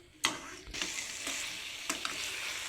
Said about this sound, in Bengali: মশলাটা কষা হয়ে সবজিটার সঙ্গে মিশে যাচ্ছে